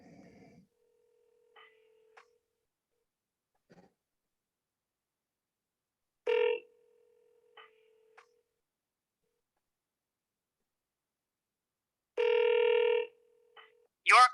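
A telephone call rings out to a property owner, with repeated electronic ring tones separated by long silent gaps, a couple of short clicks and dial-type beeps, and faint voices at the very start and end.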